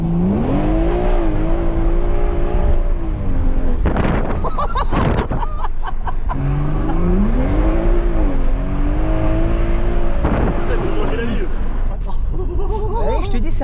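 A Mercedes G63 Brabus accelerates hard in repeated bursts, its engine note rising and falling through rising sweeps with sharp crackles between pulls, loud and close, while people talk excitedly over it.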